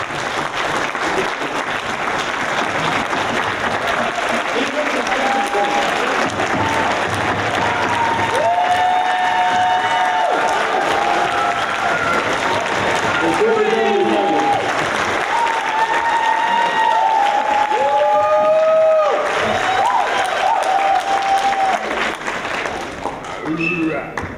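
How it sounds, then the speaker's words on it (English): An audience applauds nursing graduates at the Essex County College pinning ceremony, with steady, full clapping throughout and scattered cheers and voices rising above it. "let's give them a round of applause"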